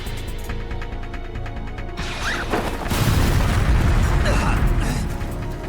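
An anime explosion from Gundam UC builds from a mechanical rumble into a heavy, roaring blast that swells loudly and sustains, with a voice speaking briefly over the buildup.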